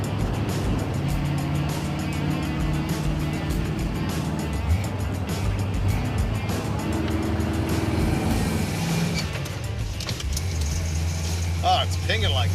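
The engine of a K20 4x4 truck runs rough and pings while driving. A continuous low, uneven drone of engine and road noise stays loud throughout, with voices faintly mixed in.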